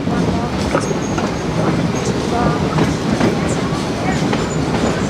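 A Shay steam locomotive, West Side Lumber #9, rolls along the curving Georgetown Loop mountain track, its steady clickety-clack and rumble filling the scene continuously with faint squeals, while a voice talks over it.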